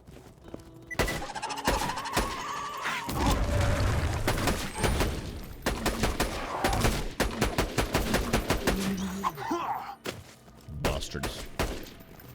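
Rapid gunfire from Borderlands 2 gameplay rattles in dense, loud bursts across the whole stretch, with brief gaps and game effects mixed in.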